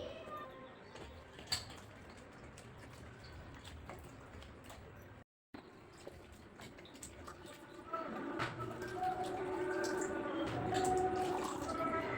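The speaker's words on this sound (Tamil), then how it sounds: "வெண்டைக்காவை தண்ணியில் நல்லா அலசி எடுத்து வச்சிடலாம்" Okra pods being rinsed in a bowl of water in a home kitchen: soft sloshing, swishing and dripping that grows fuller and busier toward the end, with a voice faintly in the background.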